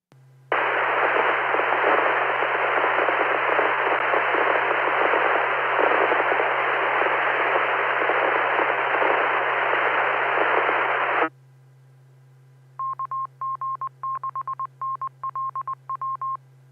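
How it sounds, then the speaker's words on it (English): Loud, steady radio static hisses for about ten seconds from a weak amateur station transmission heard over a ham radio net, then cuts to quiet, followed by a run of short beeping tones. "if that was a station trying to reach me, I didn't hear much of anything but fuzz"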